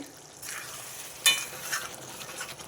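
Drumstick masala gravy curry simmers and sizzles in a pan while a spoon stirs it, with one sharp scrape of utensil against the pan standing out partway through.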